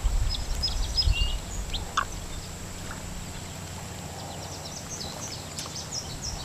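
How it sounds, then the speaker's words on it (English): Birds chirp and call in the distance by a lake over a steady outdoor wash of water and breeze, with no talking. "You can hear some birds back here."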